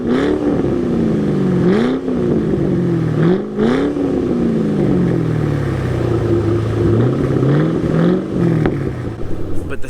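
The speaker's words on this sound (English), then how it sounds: "it has a beautiful V8 in it, and I'll go ahead and play a sound clip for you guys here." A 2006 Ford Mustang GT with a V8 revs loudly and steadily, its engine note rising and falling through repeated swells without any talking.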